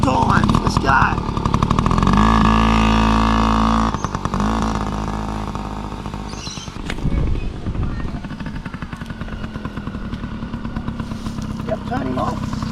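A small kids' motorcycle engine starts and settles into a steady, buzzing idle, loud and close. It runs continuously with slight changes in pitch, and a coach's voice is heard over it.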